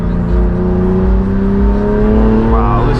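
Straight-piped BMW M4 G82 exhaust at a car meet, revving at partial throttle with a rising, droning tone that builds steadily, loud and close throughout, with a voice talking over it.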